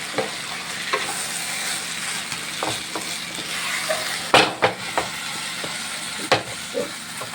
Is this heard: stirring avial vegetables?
yes